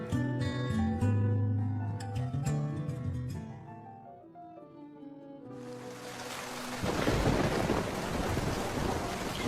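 Cartoon thunderstorm: after a musical passage, heavy rain and a loud rumbling thunder roll burst in, the downpour hissing steadily and loudly to the end with no speech.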